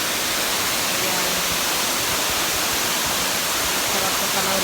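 Kelyen waterfall in Coron, Palawan pours with a loud, dense, unbroken roar of rushing water, close and steady throughout.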